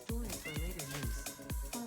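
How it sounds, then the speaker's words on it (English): Repeated cat meows from spider-cat mobs dying in Minecraft Bedrock, about four quick, loud synthetic meows in a row, close and clear, with a voice talking alongside. "And they meow when you kill them."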